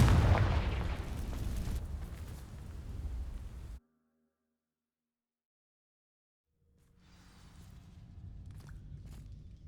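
A Confringo fire spell in Hogwarts Legacy bursts into dry vines with a loud, roaring, crackling blast lasting nearly four seconds, then drops abruptly to silence before a quieter rumbling ambience returns.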